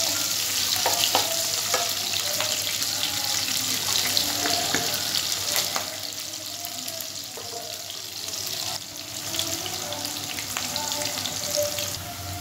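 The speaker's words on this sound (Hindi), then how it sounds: "इसको हम तेज़ आंच पे भूनेंगे" Onions and garlic, in large whole pieces, fry hard over a high gas flame for a peanut chutney, giving a steady close sizzle and crackle with occasional stirring and clinks throughout.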